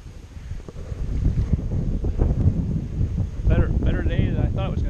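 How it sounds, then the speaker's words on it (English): Strong, gusty wind roars steadily across an outdoor field during early fall arrowhead hunting, with 20 to 30 mph gusts buffeting the microphone; a brief harmonic whine rises near the end. "Really windy though. 20 to 30 mile per hour gusts."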